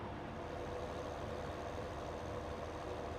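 A tractor engine in Farming Simulator drones at a steady, continuous low rumble with no change in pitch or rhythm, heard alone without talking.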